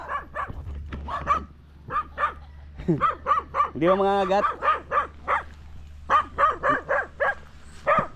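Several dogs bark repeatedly nearby, sharp yaps and a drawn-out howling bark in the middle, while a person speaks over them.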